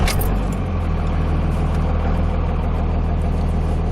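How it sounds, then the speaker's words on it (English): A Cummins 5.9 diesel in a Ram 3500, just jump-started, runs with a steady, close, loud diesel clatter and low throbbing idle, following a brief clank at the start. "A battery that size can jumpstart the Cummins."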